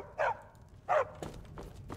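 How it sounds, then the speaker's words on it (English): A dog barks inside a house in the video game Skyrim, two sharp loud barks about a second apart, followed by softer thumping sounds. "Miko, sit here, because I'm tired of you barking."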